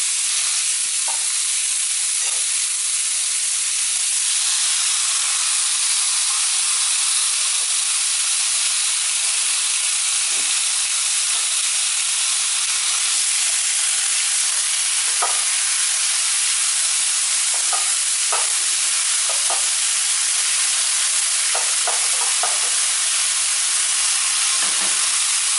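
Partridges frying in vegetable oil inside a tagine, giving a steady broadband sizzle and hiss that runs without a break, with occasional sharp pops and spits rising above it and no voices.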